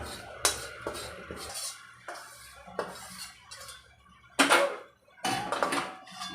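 Dry date powder is added to ground roasted dry fruits in a bowl: a series of close, sharp clinks and scrapes of a metal spoon against the dish, in irregular bursts with quiet gaps between.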